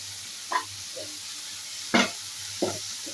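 Tomatoes and onions fry in a pan for a fish curry, with a low steady sizzle broken by three or four brief, sharp stirring scrapes.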